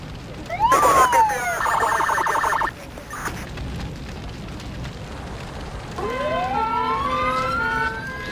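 A police siren wails and yelps in Emergency 4, São Paulo mod, sweeping up and down in pitch, then rising again after a brief lull amid background noise.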